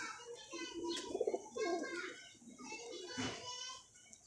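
Pigeons coo in soft, repeated throaty phrases close by while someone talks over them and children's voices sound in the background.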